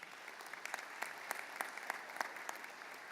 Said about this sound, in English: And I think they deserve another round of applause right now.